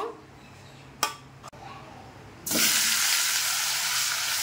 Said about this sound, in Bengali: মুড়োটাকে আগে ভেজে নিই।